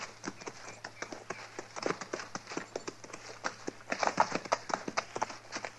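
Hoofbeats of horses being ridden along a trail, a steady rhythmic clip-clop of many quick hoof strikes over several seconds, moderately close under a low constant background hum.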